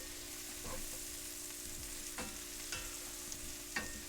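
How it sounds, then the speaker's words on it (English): Jägerschnitzel frying in a pan, a soft continuous sizzle with a low hum underneath and a few sharp clicks from stirring or moving the pan, close and fairly quiet. "So you can hear the sizzling."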